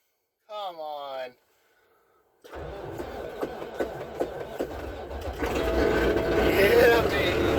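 A vehicle engine cranks and catches after the throttle is pumped, then settles into a rough, rising mid-pitched run that grows louder toward the end, following a brief voice and a moment of silence.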